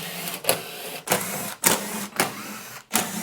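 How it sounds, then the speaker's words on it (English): A 3/8 impact driver backs out the belly pan bolts on an Ariens snowblower in short buzzing bursts, roughly five in a row with brief pauses between them, close and fairly loud. "3/8 on an impact driver should do this quick."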